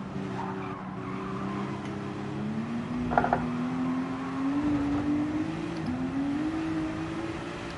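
A race car engine in the video game Gran Turismo 7 holds a steady droning pitch that climbs gradually, with a brief squeal of tires midway.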